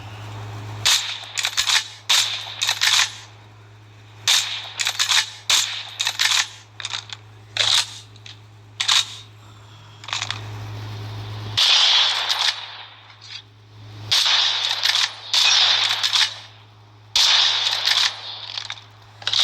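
Gunfire in Call of Duty Mobile rings out in sharp bursts of shots against a steady low hum, some quick rapid strings and some single cracks, loud and close, with no talking.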